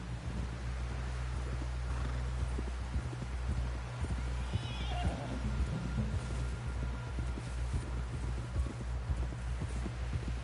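Hooves clip-clop steadily while a horse neighs in Red Dead Redemption 2, on a snowy Chapter 1 winter ride, with wind noise and faint voices in the background.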